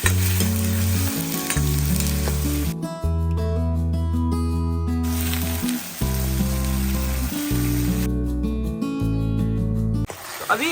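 Tomato, ginger and garlic sizzle loudly after being added to browned onions in a hot pan, a dense, continuous frying hiss with stirring, alone and close.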